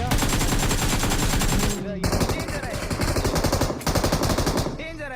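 Rapid automatic gunfire in the mobile shooter BGMI during a one-versus-four clutch fight: loud, dense bursts of shots rattle almost continuously, with brief gaps between volleys.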